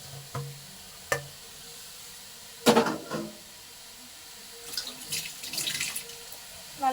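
Water goes into a pan before grated coconut for a sweet jaggery pitha filling: a short splashing pour midway, with scattered light clinks and kitchen handling around it.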